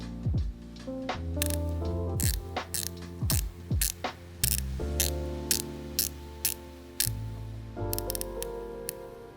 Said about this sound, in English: this has the most satisfying bezel action